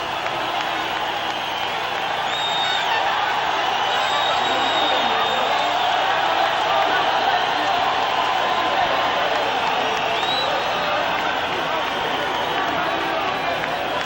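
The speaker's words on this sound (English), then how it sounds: "and the crowd erupts" A dense boxing arena crowd roars and cheers as Julio Cesar Chavez climbs into the ring, a broad continuous wash of crowd noise with scattered whistles and whoops, mixed with indistinct voices.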